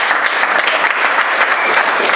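Church congregation clapping together, steady loud applause filling the room throughout.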